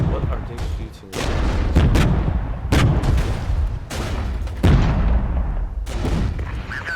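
Gunfire and artillery in the real-time strategy game Regiments, with repeated loud booms and shots in an irregular rhythm over several seconds, a voice faintly present underneath.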